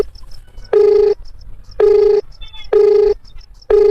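Repeated phone ring-back tones, four long steady beeps at even intervals, loud and near, with faint low rumble and soft background noise between them; no talk during the rings.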